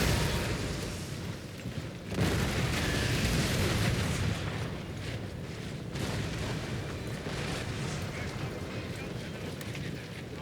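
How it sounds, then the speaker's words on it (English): Grand cannons in the Napoleon Total War battle game fire in heavy, booming blasts, a sharp report followed by a long rumbling wash of battle noise, fairly loud and continuous. "Now let's take a look at the grand cannons."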